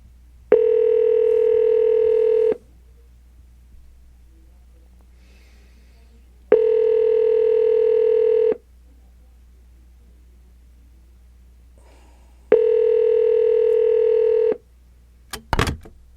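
Three steady telephone tones after a phone line went dead, each lasting about two seconds and separated by long silent gaps, with a brief sharp click at the very end.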